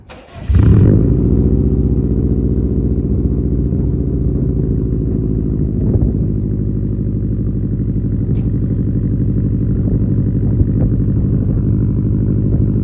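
A Subaru STI engine with a Tomei titanium exhaust cranks and fires up with a sharp burst, then settles into a loud, deep, rumbling idle with slight burbling throughout.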